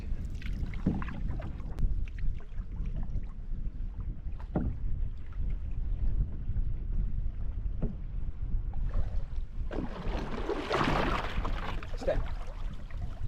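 A canoe moves through a small river swift near Wolf Lake in Temagami, with a steady rush of water and paddle sounds, and a louder surge of splashing near the end.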